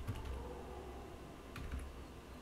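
Computer keyboard keys tapped in a few quiet, scattered clicks, faint over a steady low background hum.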